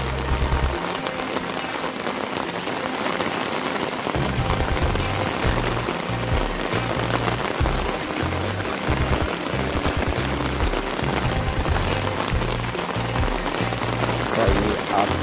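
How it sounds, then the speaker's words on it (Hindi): Steady, heavy rain pours down on a road with a dense hiss over hard ground, while a low rhythmic rumble pulses underneath throughout. "सवेरे से बारिश हो रही है यहाँ पे"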